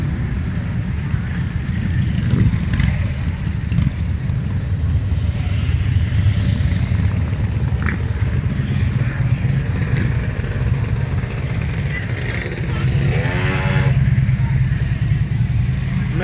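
Motorcycles ride past during a motorcycle rally in Rüdesheim, with engines rumbling steadily nearby and one bike revving up sharply toward the end over constant street noise.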